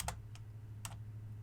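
Keystrokes on a computer keyboard while entering a telnet command, four quick separate clicks spaced irregularly over a steady low hum, close and fairly quiet with no talking.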